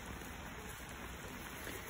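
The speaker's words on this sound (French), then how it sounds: "dès que j'ouvre, il commence à pleuvoir grave" Steady, heavy rain pours down outdoors during a barbecue cooking a tagine, a constant dense hiss with no talk.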